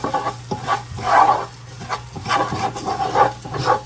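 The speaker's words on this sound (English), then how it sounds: "I'll stir it around some more" A spoon scrapes and stirs rice and vegetables coated with turmeric in a pan, making rhythmic rubbing strokes over a faint sizzle, with no voices.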